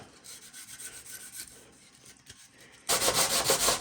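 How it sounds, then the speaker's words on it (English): Short, rhythmic rasping strokes of sandpaper on wood, quieter at first and then a louder, rapid burst of scrubbing close by. "now I'm just gonna sand this up"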